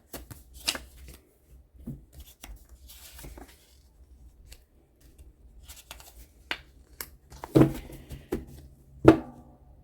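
A deck of tarot-style oracle cards is shuffled close up in scattered riffles and soft slaps, with a few sharper taps near the end and quiet gaps between.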